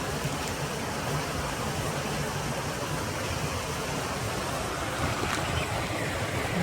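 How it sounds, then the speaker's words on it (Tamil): Stream water flowing near a waterfall at Vilpatti village in Kodaikanal, a steady, moderately quiet rush of water with a continuous hissing wash and no clear voices. "இங்கே தண்ணி ஓடிக்கிட்டே இருக்குது."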